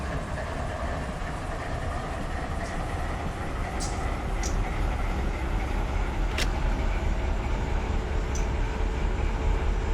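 A coal train at Searles Yard in Run 8 Train Simulator eases forward under throttle against its brake, with a steady low diesel rumble, faint metallic squeaks and clicks, and occasional low speech in the background.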